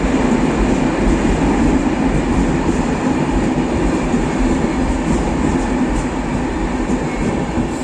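A train moving off on a Polish railway line in Lower Silesia, a loud, steady rumble of wheels and carriages rolling close by, with a dense low roar throughout and no talking.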